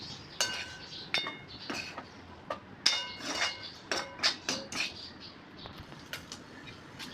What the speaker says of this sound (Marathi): आता याला मी ताटामध्ये काढून घेते